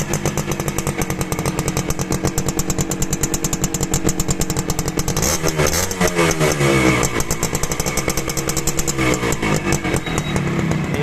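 A Honda H100 CDI motorcycle engine running close up, a loud rapid regular putter that holds steady, then briefly revs and changes pitch midway before settling back to its even beat.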